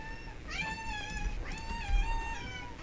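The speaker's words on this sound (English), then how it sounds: "that's the sound of my cats about to be fed their dinner" Two or three drawn-out cat meows from cats about to be fed, fairly close and insistent, one after another with short gaps, over a faint low hum.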